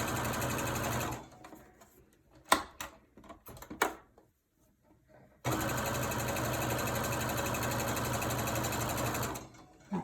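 A sewing machine stitches around a fabric wolf mask, running steadily for a few seconds, pausing amid scattered handling clicks and knocks, then starting again for a long, loud continuous run before stopping.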